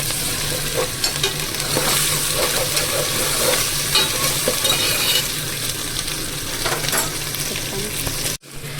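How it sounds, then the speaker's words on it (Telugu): Beans and green chillies for a vegetable biryani fry loudly in a pan. A dense, continuous sizzle runs under occasional stirring scrapes, with no talk, and drops out abruptly near the end. "బీన్స్ అయితే కొంచెం ఫ్రై అయ్యాయండి."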